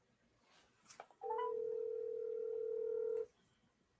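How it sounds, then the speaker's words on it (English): A telephone call being placed: a brief dialing blip, then a single steady ringback tone held for about two seconds before it cuts off, clear and alone in a quiet room. "I will try to call you again."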